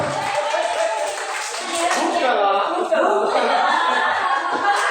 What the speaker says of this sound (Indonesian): Ya, berikan tepuk tangan dulu.